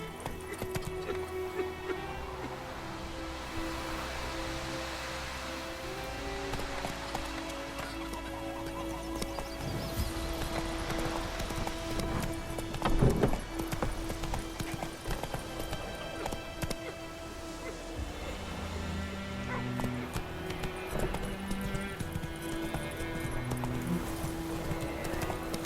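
Hooves of the horse Roach clip-clopping steadily at a trot in The Witcher 3, a continuous rhythmic clatter over a bed of in-game music and ambience.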